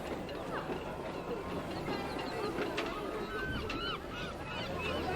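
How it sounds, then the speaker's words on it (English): Seagulls calling in a seaside theme park in Planet Coaster 2, several high cries scattered over a dense ambient bed of crowd murmur and park noise, moderately distant. "And you can hear the seagulls in the background."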